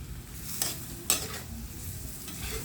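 Chilli garlic shrimp are stirred in a pan over a quiet, steady sizzle, with two soft scraping strokes standing out.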